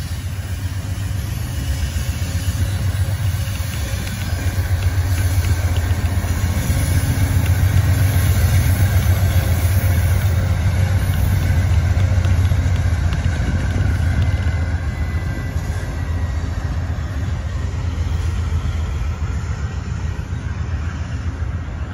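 The Amtrak 156 passenger train rolls past close by in the morning with a loud, sustained low rumble. It swells toward the middle and then eases off, and no one speaks.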